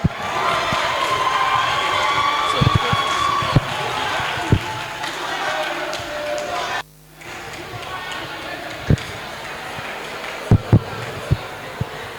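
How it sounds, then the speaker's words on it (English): Crowd noise from a debate audience cheering and shouting for the first speaker of the Faculty of Agriculture, a steady roar with sharp bangs and thumps, briefly cut off midway before resuming. "A round of applause for the first speaker of Faculty of Agriculture"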